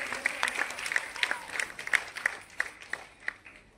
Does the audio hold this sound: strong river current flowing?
no